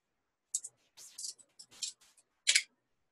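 Scissors cut cardboard into a puppet leg shape, making a series of crisp snips and papery crunches in short irregular bursts, close and fairly clear, with no talk.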